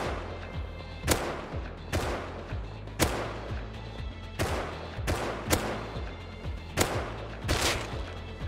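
Gunfire in the video game Rust: sharp, loud shots land roughly every second, each with a short echoing tail, and a low rumble sits beneath the whole volley.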